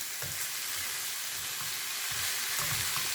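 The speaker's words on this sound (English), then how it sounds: "We are just stir frying it." Steady sizzling of chicken and vegetables stir-frying in a hot pan with dark soy sauce, with occasional scraping and tossing sounds from a utensil, continuous throughout.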